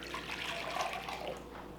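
Vegetable cooking water poured into a Vitamix blender, a steady soft splashing stream heard close and fairly quiet for a couple of seconds.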